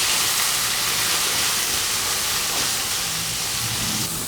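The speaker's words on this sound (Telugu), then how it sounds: "క్యారెట్ ఈ ముక్కలన్నింటినీ కూడా వేసుకుని చక్కగా 1 నిమిషం పాటు మీడియం ఫ్లేమ్లో మనము ఫ్రై చేసుకుందాము." Broccoli, carrot and other vegetable pieces fry in a pan over medium flame, producing a dense, continuous loud hiss of sizzling with no pauses.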